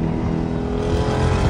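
A supercharged Jeep Grand Cherokee Trackhawk revs close by. A loud, sustained engine roar carries a steady whine throughout the short burst, with no voices over it.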